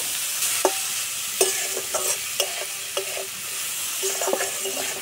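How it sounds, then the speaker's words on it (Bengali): Potatoes and carrots fry in a pan with a steady, bright sizzle, broken by several sharp knocks of a utensil stirring them at uneven intervals. There is no talking. "এদিকে হালকা আছে আলু আর গাজর ভাজা হতে থাক"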